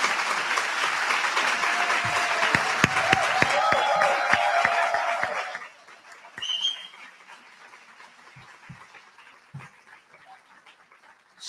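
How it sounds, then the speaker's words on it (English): An audience applauds to welcome a guest speaker, Sharon, at a talk event: dense, loud clapping for about five seconds, then dropping off abruptly to quiet room tone with a few scattered claps and faint noises. "give her a big round of applause"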